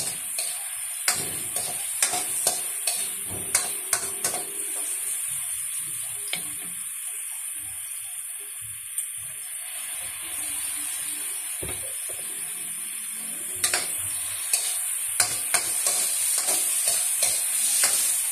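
Sautéed garlic, onion and tomato with a splash of soy sauce are stirred in a pan for sweet and sour tilapia, with a soft steady sizzle broken by repeated sharp utensil clicks and scrapes.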